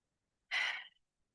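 A single exhale during a 4-7-8 breathing exercise, heard as one close, soft, airy breath out lasting about half a second, alone in silence.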